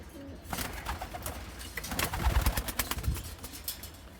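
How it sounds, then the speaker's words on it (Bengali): Racing pigeons in a loft, five hens and three cocks, cooing softly at close range, with low repeated coos and a few faint chirps and rustles under a quiet background. "এখানে এই যে মোট কবুতর হচ্ছে এক দুই তিন চার পাঁচ ছয় সাত আটটা কবুতর আছে"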